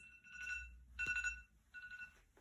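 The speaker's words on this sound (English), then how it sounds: "It was a radar alarm kind of thing. ringtone on the mobile." A radar-style electronic alarm ringtone on a mobile phone plays in three short warbling bursts with brief gaps, fairly quiet and alone.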